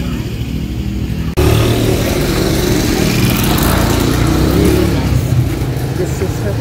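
A motorbike passes close on a Bali street, its small engine buzzing loud and steady after a sudden onset, while people talk over it.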